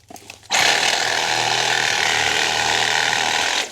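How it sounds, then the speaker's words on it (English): A Sawzall with a wood blade cuts into a tree, its loud, steady buzzing saw noise starting abruptly after a few quiet knocks and continuing close up. "So let me grab the Sawzall and the wood blades."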